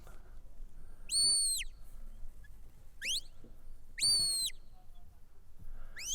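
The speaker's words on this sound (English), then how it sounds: "Whistling quietly." Sharp, high shepherd's whistles signalling a sheepdog at a sheepdog trial, coming in short rising and falling bursts with pauses between, over quiet outdoor background.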